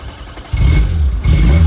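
A hot car engine cranks in two rough, low bursts of churning starter noise, close and loud, with a brief pause between attempts.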